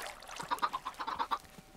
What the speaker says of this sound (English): A lot of chickens down here.